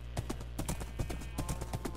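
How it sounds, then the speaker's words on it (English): Horse hooves clip-clop in a video game, a quick, even trot of close, crisp hoof beats running steadily over a faint background hum. "So we got two really good horses over here."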